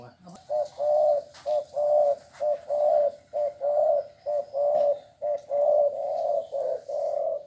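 A decoy dove, a trained caller bird, coos repeatedly in a steady rhythm of about a dozen close, loud, even phrases, with faint background noise.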